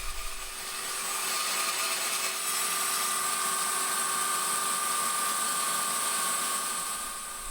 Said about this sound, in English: A large bandsaw simply is a wonderful machine for such work.